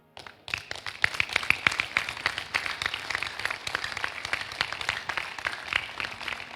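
A church congregation claps together at a live service, a dense run of sharp overlapping claps that keeps an uneven rhythm throughout and stays close and moderately loud, with no talking.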